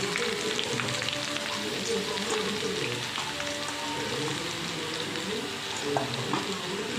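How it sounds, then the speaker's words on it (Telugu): Bottle gourd pieces with green chillies and curry leaves fry steadily in a pan, a dense continuous sizzle with occasional stirring clatter, close and moderately loud throughout. "వేసుకొని కలయి పెట్టుకొని కొంచెంసేపు వేయించుకోవాలి."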